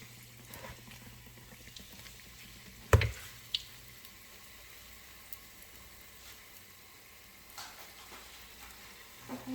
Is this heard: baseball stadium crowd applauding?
no